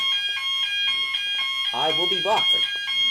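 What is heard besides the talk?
fire alarm going off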